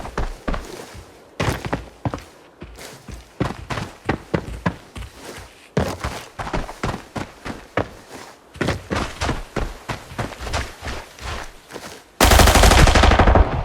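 Rapid gunfire from the shooter game Arena Breakout crackles in many short bursts with brief pauses between them, then ends in one loud, dense sustained burst.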